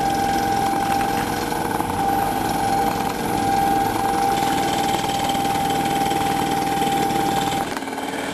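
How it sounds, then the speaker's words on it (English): A small airplane engine warms up at a steady, loud drone while the plane taxis toward the runway, its rumble continuous and close throughout. "The engine continues its warm-up while I position the plane on the runway."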